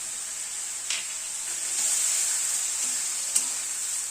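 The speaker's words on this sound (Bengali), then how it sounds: "এখানে 3টে কাঁচা লঙ্কা বাটা আছে, সেটা দিয়ে দিলাম।" Green chilli paste fries in a pan for a light fish curry, producing a bright, steady sizzle with a couple of sharp stirring clicks and no speech.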